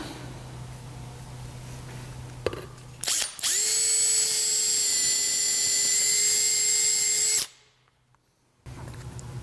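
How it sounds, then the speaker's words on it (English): A power drill with a 3/16 bit bores through a double nail pad, spinning up after a click into a loud steady whine for about four seconds before stopping abruptly, with a low background hum. "use the same drill bit that we used to put for our peg, which is a 3/16, to drill all the way through our double nail pad"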